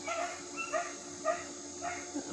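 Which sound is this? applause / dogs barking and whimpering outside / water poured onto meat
dogs barking and whimpering outside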